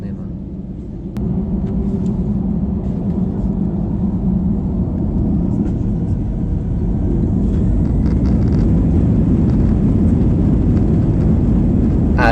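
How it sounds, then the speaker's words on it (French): An Airbus A320 accelerating down the runway for takeoff at Monaco, a loud, steady rumbling roar that swells after a quiet first second and keeps building, heard from inside the cabin. "c'est parti pour environ 30 secondes d'accélération en vue d'atteindre les environ 250 km/h nécessaires pour le décollage de notre 320"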